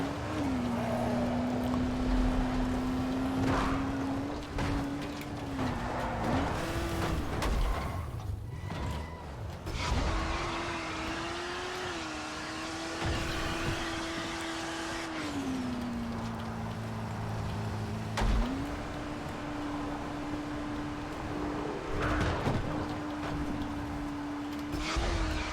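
A car engine in the video game Dying Light drones steadily at a fairly even pitch, dipping and rising with brief gear or throttle changes, with game ambience and a short lull partway through.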